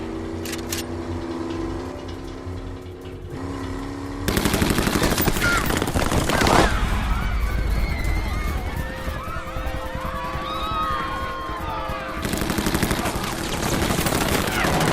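Small arms gunfire rings out in the attack scene of the action film The Kingdom: rapid bursts of automatic fire and scattered shots amid loud chaotic action, with explosive impacts and swelling noise throughout.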